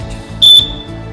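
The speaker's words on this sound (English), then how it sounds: "When key touch the wire, the alarm will buzzing and you will out." A buzz wire game's alarm goes off as the key touches the wire, a single sharp high electronic beep lasting a fraction of a second, loud and close over a faint low background hum, with no voices.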